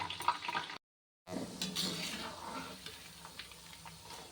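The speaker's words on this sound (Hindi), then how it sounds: "और अब मैं इस तरह से कढ़ाई में डालते जा रही हूँ।" Nimki dough frying in hot oil in a wok, a soft bubbling sizzle with faint stirring clinks, briefly cut off near the start before the frying resumes quietly.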